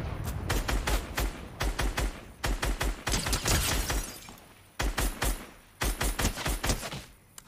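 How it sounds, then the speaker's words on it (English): Rapid bursts of gunfire from Fortnite Chapter 4, loud repeated volleys of sharp shots in clusters separated by brief pauses, with glassy crackling between bursts and no talk. "I'll hit one of these shots."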